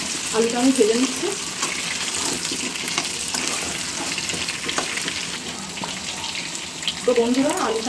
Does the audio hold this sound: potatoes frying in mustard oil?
yes